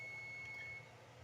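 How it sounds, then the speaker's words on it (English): A kitchen buzzer sounds one steady electronic beep tone for just under a second, then stops, over faint room noise. "Okay, my buzzer's going off."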